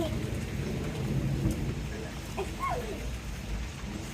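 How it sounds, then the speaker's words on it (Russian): Steady rain falls outdoors with low rumbling thunder running through it, a continuous wet hiss lasting throughout. "It's raining."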